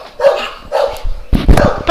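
Pet dogs bark loudly nearby at home, reacting to another dog being walked outside, in several sharp bursts and yips over two seconds, with a voice briefly calling out among them.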